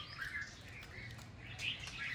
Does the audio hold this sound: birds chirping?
yes